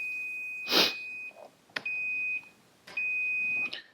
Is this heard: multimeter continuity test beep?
yes